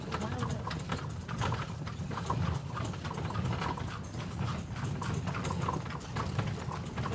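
Hooves of a horse pulling a carriage clip-clop steadily at Phra That Lampang Luang, a continuous close rhythm over a low rumble of wheels and road, with voices murmuring faintly in the background.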